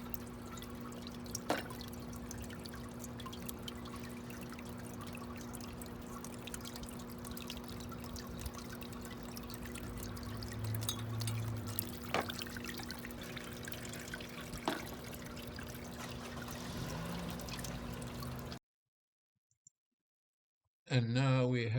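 Water flowing through kinetic art seesaw pipes outdoors, a soft continuous trickle and drip with occasional faint taps, steady and low, ending in a brief silence followed by a short burst of speech.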